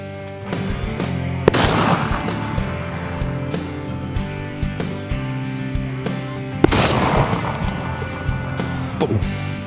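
While turkey hunting outdoors in the morning, two sharp, loud shotgun-like blasts ring out several seconds apart over quieter rustling and background ambience.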